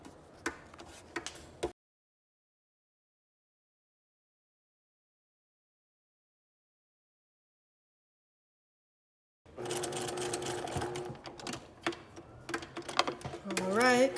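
A sewing machine stitches a puff sleeve seam and finishes with a backstitch, giving rapid ticking bursts at the start, then several seconds of silence, then a longer run of busy mechanical stitching.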